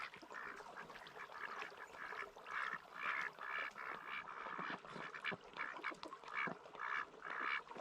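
A duck, a bossy lead drake, quacks in a steady series of nasal calls, fairly faint and close, with water and other bird sounds around it.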